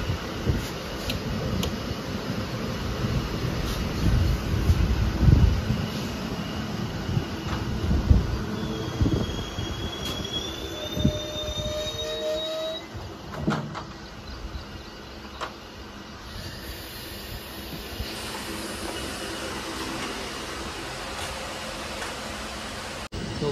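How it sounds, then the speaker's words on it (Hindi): Shamli–Delhi passenger train rolling out of Alawalpur station in the early morning, a steady low rumble and clatter heard from inside the coach, with faint squeals and a brief mechanical whine. "ये ट्रेन चल रही है अलावलपुर इदरीसपुर से"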